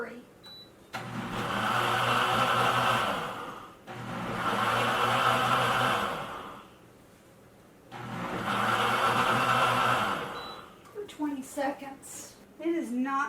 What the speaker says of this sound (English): Let's do a pulse at a slow speed.